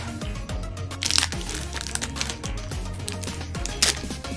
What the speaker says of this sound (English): that sound was me unwrapping a gummy Krabby Patty.